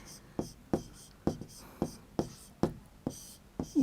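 Chalk or marker strokes on a board during a primary-school maths lesson, heard as about ten evenly spaced, sharp tapping scratches in a steady rhythm, close and clear, with a faint voice near the end.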